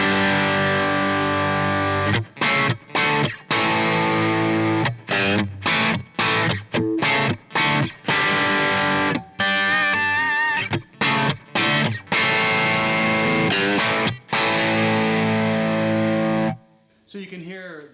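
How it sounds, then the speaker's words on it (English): Electric guitar run through a compressor into a Truetone Route 66 overdrive pedal: loud, driven chords and riffs in bursts with short gaps, ringing sustained notes, then a cutoff near the end. "Now let's go ahead and hit the front end of the overdrive with the compressor."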